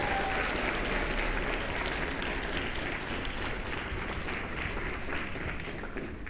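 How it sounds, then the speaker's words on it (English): At a school chapel and graduation ceremony, a crowd applauds the basketball players with a long, steady roar of clapping from many hands that holds evenly for several seconds before easing slightly. "give the basketball players a huge round of applause"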